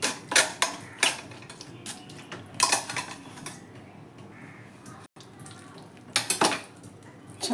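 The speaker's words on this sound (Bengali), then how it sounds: "এরকম করে ছেঁকে নেব আমগুলোকে ভালো করে ছেঁকে নিয়ে" Raw green mango pulp is pressed and scraped through a metal sieve in a home kitchen, making bursts of clattering, scraping strokes at an uneven rhythm, close by and fairly quiet, with pauses between them.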